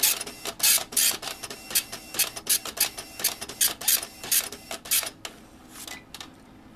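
An IBM point-of-sale dot matrix printer prints onto a plain index card, giving loud, rapid bursts of buzzing print-head strokes in a steady rhythm of short passes that thin out and stop near the end.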